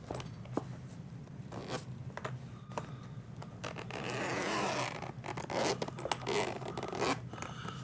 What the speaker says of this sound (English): double zippers